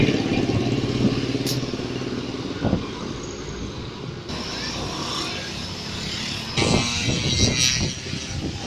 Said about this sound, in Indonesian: Ini ada bis Merdeka.